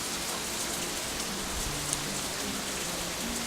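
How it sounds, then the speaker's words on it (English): Steady rain falls in the visual novel Katawa Shoujo, a constant, even hiss of drops on surfaces with no thunder and no voices. "It's getting soaked in the rain."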